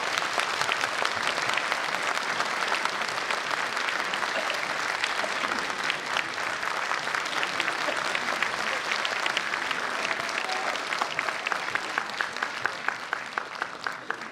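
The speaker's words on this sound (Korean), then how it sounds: "큰 박수를 부탁드리겠습니다" Warm, sustained applause fills a Bucheon city hall auditorium as the audience welcomes South Chungcheong governor Ahn Hee-jung to the stage for a lecture. The clapping is even and continuous and thins slightly toward the end, with no talk over it.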